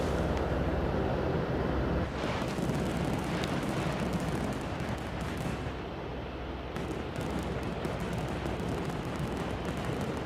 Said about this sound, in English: we like to get some fireworks on just to say thanks